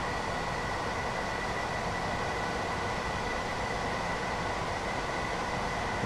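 Gatwick Express train in the Train Sim World 2 game gathering speed, a steady broadband rumble and hiss of rolling stock with a faint sustained tonal whine, continuous and fairly loud throughout.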